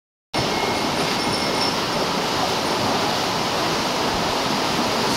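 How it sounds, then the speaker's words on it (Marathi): Floodwater rushes across farm fields in Mudkhed taluka, a constant, loud roar of broadband water noise that starts abruptly and holds steady without pause, with no voices on top. "सारे पाणी आमच्या वावरात गेलेलं आहे"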